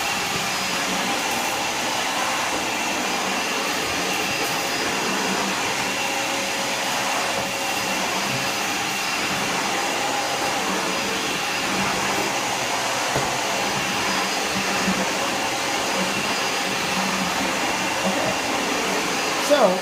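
A Dyson DC17 vacuum cleaner runs steadily and close, giving a constant loud whooshing drone with no pauses throughout.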